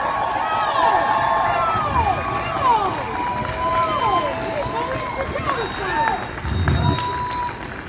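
At an outdoor people's march, a large crowd claps, cheers and calls out continuously, with sharp whistle-like shouts rising over a steady roar of voices.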